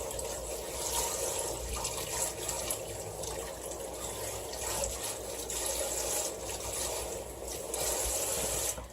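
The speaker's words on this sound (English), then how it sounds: "I am going to rinse my hands first." Hands being rinsed under a running tap, a continuous soft wash of flowing water with faint splashing variations and no voices.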